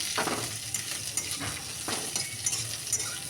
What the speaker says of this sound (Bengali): আমি লাল লাল করে ভেজে নিলাম।